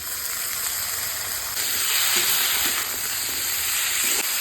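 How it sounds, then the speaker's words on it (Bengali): Potatoes fry with onion and green chillies in a pan, giving a steady close hiss of sizzling oil that swells slightly partway through, with faint stirring scrapes and no talking. "পেঁয়াজটা হালকা করে ভেজে নিয়েছি, এবার আলুটা দিয়ে দিচ্ছি"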